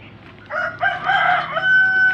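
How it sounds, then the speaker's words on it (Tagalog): A rooster crows once in a garden where chili peppers are planted, a loud drawn-out call that rises and holds its final note, with faint outdoor background and no talk. "May manok."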